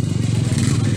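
Motorcycle engines on a trail ride in Zamboanga del Sur, a close, loud, rumbling idle that runs steadily without pause.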